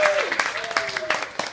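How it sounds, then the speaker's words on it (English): Live comedy club audience at a Santa Cruz show gives a short burst of scattered applause, dense and roomy, with a voice speaking over the clapping. "Give him a couple of little claps for you."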